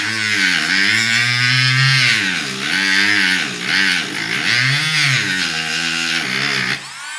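A Parkside PMGS 12 D4 engraving tool whines at high speed as it cuts into thick carbon, its pitch dipping and recovering under load in uneven waves, loud and steady up close with no talking.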